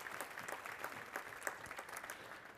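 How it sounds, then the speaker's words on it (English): A conference audience applauds during a security talk, a steady dense wash of many hands clapping at moderate distance for the whole stretch, with no voices over it. "Now, if I keep playing it, will you keep clapping?"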